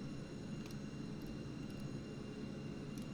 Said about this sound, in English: And we have airplanes coming in.